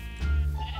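A sheep in a video game bleats once, a short, close, clear bleat with no talking over it.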